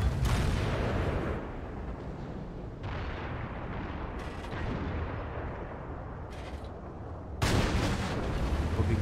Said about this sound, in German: Wo ging der Schuss denn hin?